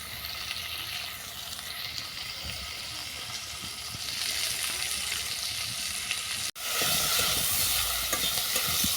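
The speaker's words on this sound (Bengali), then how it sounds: "লবণ হলুদটা ভালো করে মেশানো হয়ে গেছে দু মিনিটের মতো ভেজে এটা জল ঢেলে দেবো" Vegetables with salt and turmeric fry in a pan for a crab curry, a steady sizzle with stirring scrapes that grows louder after a brief break near the end.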